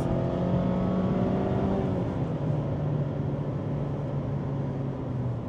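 A Mazda MX-5 sports car's naturally aspirated engine drones loudly and steadily, its pitch rising and falling as it shifts through a short-throw manual gearbox, with continuous road and wind noise.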